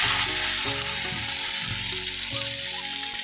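Meat frying in a pan with green chili paste gives a loud, steady close sizzle, with a few scraping stirs and faint background sounds running under it.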